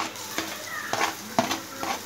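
Onion sautéing with ginger garlic paste and tomato for a vermicelli egg biryani, a soft steady sizzle broken by a few scraping stirs of a spoon in the pan, no talk.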